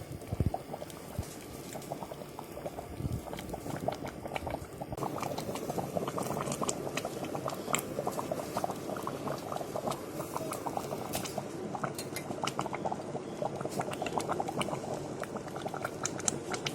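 Jamaican stewed peas bubbling steadily in a pot, a continuous close wet boil with dense popping and patter throughout, no talking over it.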